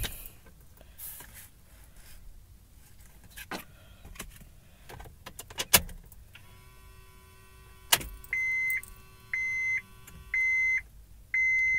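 Dashboard chimes in a 2004 Honda Civic with about 144,000 miles after the key goes into the ignition: a steady repeating pattern of four clear electronic beeps at even intervals, preceded by clicks and rustling, close and fairly loud.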